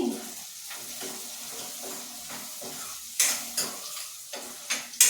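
Ingredients fry in a pan seasoned with salt, chilli powder and turmeric, giving a steady soft sizzle under stirring scrapes, with several sharper utensil clinks against the pan toward the end.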